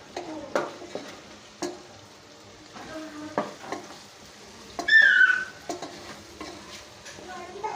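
A spatula scrapes and turns a salted, garam-masala-spiced vegetable pulao mixture in a frying pan, giving intermittent knocks and scrapes over a soft low sizzle, with one louder rasping stir near the middle.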